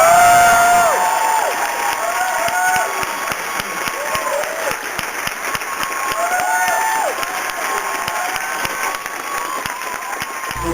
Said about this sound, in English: Please give a really warm, enthusiastic Cinefamily round of applause to Ms.